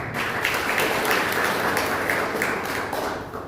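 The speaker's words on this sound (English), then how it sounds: "A round of applause for Joshua." Steady applause from a youth debate audience, many hands clapping continuously at a fairly loud level, fading slightly toward the end.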